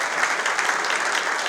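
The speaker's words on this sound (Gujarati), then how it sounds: "એકવાર આપણે જોરદાર તાળીઓથી વધારી દઈએ." A crowd at a community youth prize-distribution and felicitation ceremony claps loudly and steadily in dense, sustained applause, heard alone without voices.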